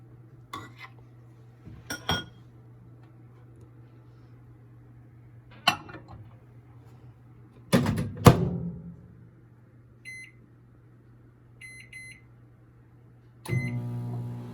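A microwave oven hums steadily while cooking Bombay Karachi halwa, with a few clinks and knocks of dishes, a door thud near the middle, and short electronic beeps toward the end.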